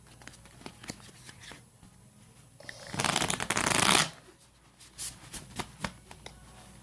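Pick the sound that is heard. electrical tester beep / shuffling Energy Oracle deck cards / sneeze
shuffling Energy Oracle deck cards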